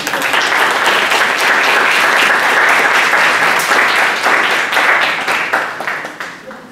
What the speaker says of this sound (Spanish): un fuerte aplauso para nuestras exposiciones